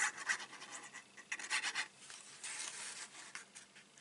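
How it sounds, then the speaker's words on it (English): Bone folder rubbed firmly over freshly glued cardstock on a small Stampin' Up! sewing basket, a close, dry scraping rasp in several short bursts then a steadier sustained rub. "give it a good rub"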